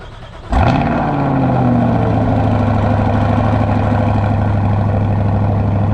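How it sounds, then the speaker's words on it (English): A C8 Corvette's engine cold-starts, cranking and catching with a sudden roar, then settles into a loud, steady, rumbling idle up close. "let's get on with that cold start"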